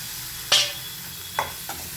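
Chopped onion and small tomatoes sauté in a pan under a faint background sizzle. Two or three brief spatula scrapes stand out, one loud and the others softer.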